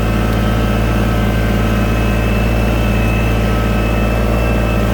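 Compact tractor engine running on a gravel pad, a loud, steady low rumble and drone that continues without a break.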